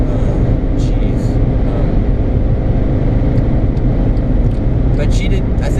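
Heavy wind noise inside a Skoda Fabia at speed on the autobahn: a constant, loud, low roar that fills the cabin, with a voice briefly heard over it.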